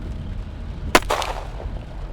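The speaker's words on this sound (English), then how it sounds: "Followed by the crack of a gunshot piercing the night." A single sharp gunshot crack used as a horror story sound effect, loud and sudden, followed by a short echoing tail over a steady rainy, rumbling ambience.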